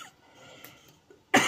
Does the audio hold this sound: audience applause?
no